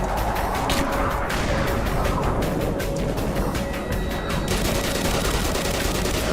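Sustained rapid machine gun fire in the video game Black Mesa, a dense continuous burst of loud gunshots with shell and impact clatter, filling the whole stretch without any talking.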